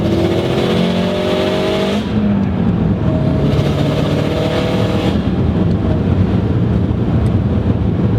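A tuned 2005 Subaru STI with an 18G turbo pulls hard onto a highway, engine droning loud and close as it climbs through the gears with brief lulls at shifts, heavy wind and road rush underneath.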